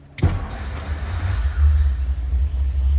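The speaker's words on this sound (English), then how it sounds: "Just turn the key and she fires right up" A 1957 Ford Thunderbird with its 312 V8 fires up in neutral without gas: a sharp crank-and-catch at the start, then a deep, steady low idle rumble close by.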